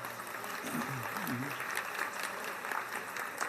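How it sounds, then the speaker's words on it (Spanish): A conference audience claps for a prize winner named Florencia, a dense, moderate round of applause with murmuring voices mixed in throughout. "Dale, un aplauso grande para Florencia."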